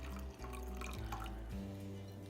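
Pomegranate juice pours in a steady, close liquid stream into berry lemonade, with brief drips and splashes over a constant low background hum.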